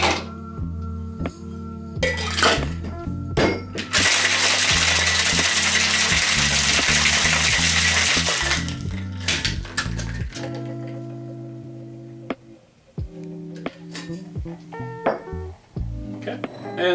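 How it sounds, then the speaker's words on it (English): Cocktail shaken hard with ice in a shaker, a loud dense rattle lasting about five seconds, with clinks and handling noises before and after. "We're just going to shake this guy up with ice and strain it into our glass."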